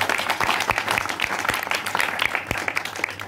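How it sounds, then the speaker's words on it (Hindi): Applause from a church congregation during a Hindi-language sermon, steady and full, with dense clapping that holds at an even level throughout. "अगर आपको अच्छा लगा ताली बजाएगा।"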